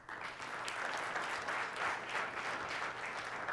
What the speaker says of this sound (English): So everyone give an applause for John.